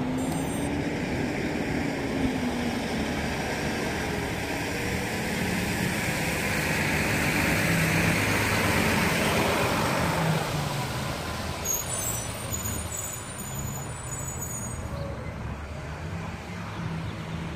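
A Kingkong 110GT FPV quadcopter with Gemfan Flash 2540 tri-blade props and a 450 mAh battery flies, a continuous rushing whine that swells mid-flight and then eases slightly while staying loud throughout.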